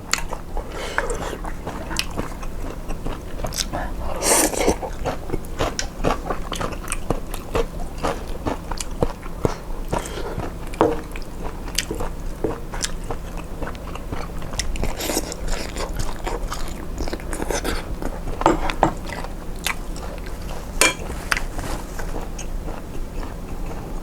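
Crispy pan-grilled bacon is bitten and chewed close to the mic, giving steady crunching and moist chewing with frequent small crackles over about twenty seconds and no talking.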